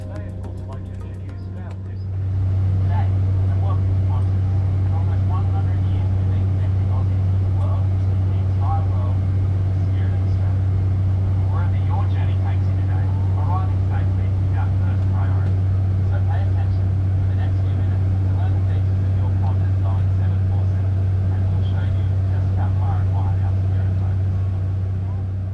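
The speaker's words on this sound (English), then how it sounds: "how noisy the interior is, with this unfortunate hum drowning out some of the announcements" Steady, loud low drone of engines heard inside the cabin of a Qantas Boeing 747-400 ER, continuous throughout, with faint voices under the hum.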